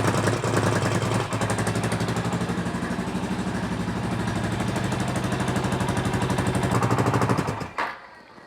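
A Honda TRX350TE Rancher ATV engine runs in gear with a fast, loud, steady chugging rattle, close up, before it cuts off abruptly near the end.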